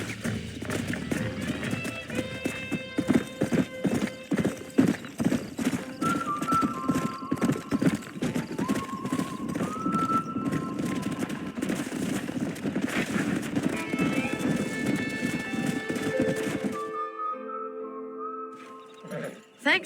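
Steady clip-clop of horse hooves trotting with jingling tack and an occasional whinny in the game Red Dead Redemption, continuous and close, fading to calm near the end.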